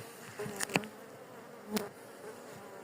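Honeybees from a test colony at a Turkish apiary buzz around an open beehive, a faint, thin hum with a few sharp clicks and knocks close by.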